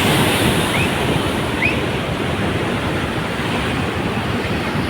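Water rushing under pressure through a single open dam gate, a loud steady roar of churning water with no voices.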